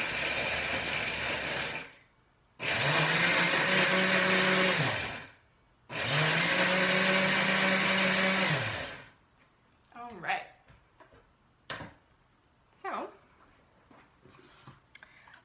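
A blender chopping peanuts and dried cranberries roars in three loud bursts of a few seconds each, its motor pitch sagging under the load. Short gaps of quiet separate the bursts, and scattered handling noises follow.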